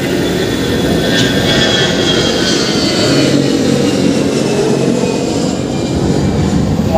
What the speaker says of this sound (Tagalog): Ayan, yung aeroplano na Cebu Pacific o cargo.